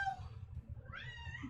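A domestic cat meows twice, a short close call followed by a rising, drawn-out meow, fairly faint over low background rumble.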